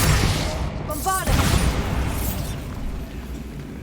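A Bombarda blasting spell explodes in Hogwarts Legacy, a loud burst with a sharp crack and rumbling debris that decays over the following seconds, mixed with game sounds.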